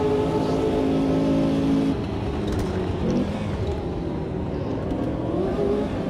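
Lotus 40 race car in the Automobilista 2 racing game on a slightly damp track, its engine holding a loud, steady drone that shifts pitch partway through as the note drops and then climbs again.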